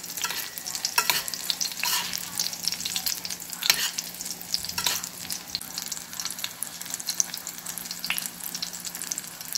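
Sausage and egg frying in a hot pan give a steady, dense sizzle with crackling pops scattered throughout, close and continuous with no voices.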